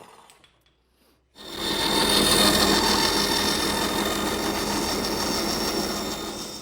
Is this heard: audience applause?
no